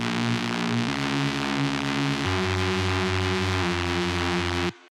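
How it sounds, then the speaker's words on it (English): A Reese bass intro built from two saw waves with distortion drones continuously as a thick, buzzing, detuned tone, shifting pitch in a few steps, loud and alone before cutting off abruptly. "To achieve this atmosphere, I first made a Reese bass for the intro."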